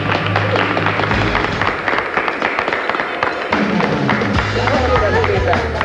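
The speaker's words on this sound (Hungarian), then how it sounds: "Nagy tapsot kérek szépen" Studio audience on a Hungarian hidden-camera prank show breaks into loud, sustained applause and cheering, a dense continuous wash of clapping with shouting voices mixed in throughout.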